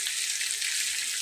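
Hilsa fish coated in ground spice paste fries in hot oil, giving a brief, even, close-up sizzle with no voices.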